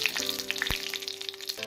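Mustard seeds, fenugreek and curry leaves tempering in hot coconut oil for mango pulissery, a crackling sizzle with scattered sharp pops and spits, close and moderately soft.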